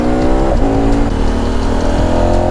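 KTM 1290 Super Adventure motorcycle under hard braking, a loud steady engine drone with falling tonal harmonics as it slows, continuous and close with no talk.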